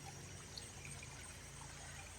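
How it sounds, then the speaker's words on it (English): Water flowing into a pond in a rock garden, a faint, continuous trickling and splashing stream with no pauses. "You got this beautiful pond with the water flowing into it."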